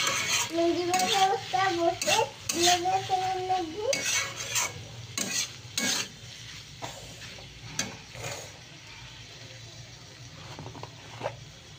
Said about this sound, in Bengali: একটু নেড়ে চেড়ে নেবো, ডিম ভাজাটা দিয়েছি।